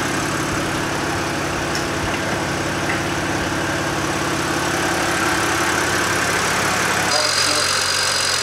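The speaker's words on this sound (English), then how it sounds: "We're gonna go ahead and jump the car and then see how it starts up and how it sounds" A BMW 335i engine idles steadily at close range after a jump start, its tone shifting and dropping slightly near the end.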